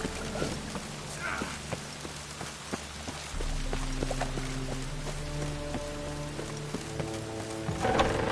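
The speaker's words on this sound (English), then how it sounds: "Rain, I like rain." Rain falls steadily in a medieval fantasy game world, a constant patter on surfaces with faint scattered taps and tonal game sounds layered over it.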